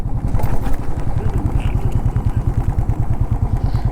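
A motorcycle engine runs steadily on a bike ride from Mumbai toward Spiti Valley, its loud, close, rhythmic putter dominating with no talk.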